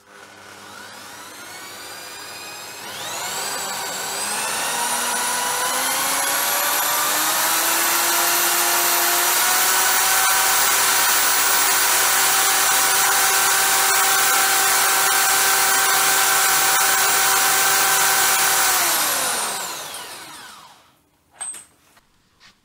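Istabreeze wind turbine on a bench test spinning up past 1000 rpm, a loud rising whine with tonal harmonics that holds steady for about fifteen seconds and then winds down and stops.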